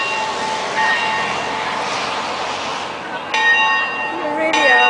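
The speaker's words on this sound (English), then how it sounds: "a bell that's been put there in 1857" Church bell from 1857 at Braywood ringing, clear tolling strikes that ring out and sustain over a background wash of noise, louder strokes arriving near the end.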